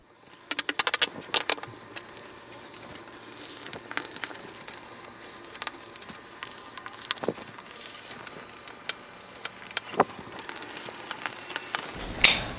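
Scissors snip through blouse fabric cut on the bias, a cluster of sharp close clicks at the start followed by scattered quieter snips and soft handling rustles, with no talk.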